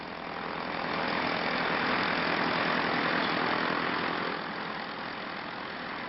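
A Teledyne air-cooled aircraft engine runs steadily on a cold morning, giving a loud, continuous, broadband roar that swells slightly in the middle and holds on.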